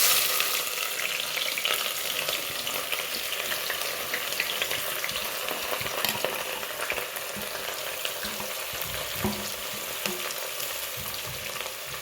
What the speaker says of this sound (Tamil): வெங்காயம் போட்டுக்கிட்டோம். இப்போ நல்லா வதக்கிக்கலாம்